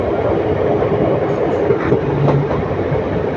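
An Intercity Express train between Erode and Palakkad runs at high speed, giving a continuous loud rumble with rhythmic wheel clatter, heard from inside the carriage.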